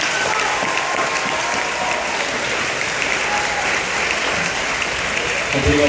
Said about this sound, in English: I think all of you deserve a big round of applause